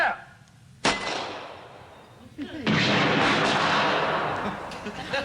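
A volley of guns fires on command, one sharp loud crack followed by a second, heavier blast that rolls out into a long rumbling wash of noise.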